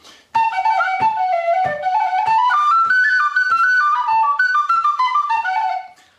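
A whistle plays a bright, sustained melody up close and loud, with short articulated notes moving up and down for several seconds before stopping.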